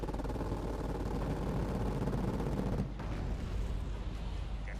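Continuous rumbling gunfire and artillery from the Wargame ALB video game, a dense, steady barrage that eases slightly near the end, with no talk.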